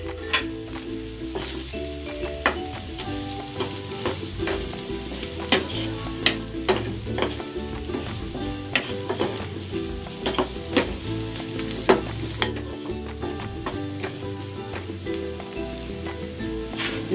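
Chicken stir-fried in a pan with sauce and chili flakes makes a continuous close sizzle, with frequent clinks and scrapes from stirring in a steady rhythm and no voices.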